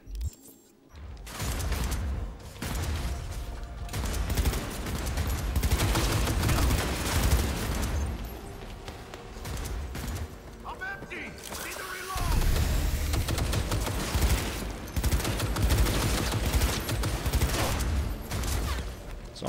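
Assault rifle gunfire in Cyberpunk 2077, a game played on a laptop, comes in dense sustained bursts with booming impacts and mechanical clatter that run almost continuously, broken by a short lull before the shooting resumes.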